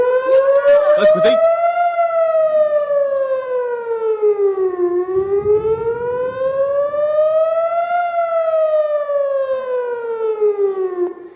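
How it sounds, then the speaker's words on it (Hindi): A loud air raid siren in Israel wails steadily during a missile attack, its pitch slowly rising and falling in long sweeping cycles, with a brief voice near the start. "आपने देखा कि किस कदर सायरन बज रहा है।"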